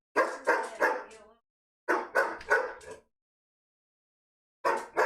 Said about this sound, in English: I'm going to push mute while the dog barks.